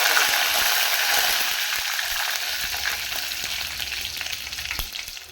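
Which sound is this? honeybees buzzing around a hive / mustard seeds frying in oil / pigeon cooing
mustard seeds frying in oil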